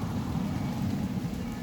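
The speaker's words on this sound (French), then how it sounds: "Au moment où je décide de tourner ma vidéo, il se met à pleuvoir" Heavy rain pouring down outdoors in open nature, heard from shelter beneath a tree: a dense, even hiss of drops hitting surfaces, steady and close, with a low rumbling undertone throughout.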